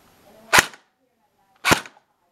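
Two sharp, loud cracks about a second apart from a Poly Panther Shorty AK CM028 airsoft rifle on a 7.4 LiPo battery, each a brief close report with quick decay and near silence between.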